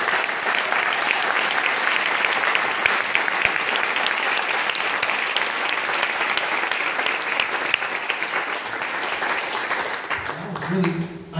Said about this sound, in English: So, a round of applause for the community.